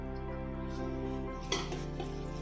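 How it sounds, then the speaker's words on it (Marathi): Mutton kheema being roasted and stirred in a pan: a spatula scrapes and knocks against the metal, with one sharper clank midway, over a steady low humming drone throughout. "त्याला आता छान आपण भाजून घेऊया असं खमंग असा तेल सुटले"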